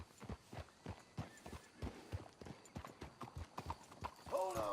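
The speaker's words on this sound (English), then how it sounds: "Let's hitch the horses up ahead." Horses clip-clop at a walk in Red Dead Redemption 2, a steady run of hoofbeats that ends in a brief whinny, with quiet talk over them.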